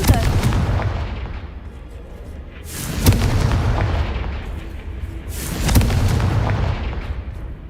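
Deep booming blasts from the Confringo fire spell in the video game Hogwarts Legacy, two heavy explosions a few seconds apart with long rumbling decays.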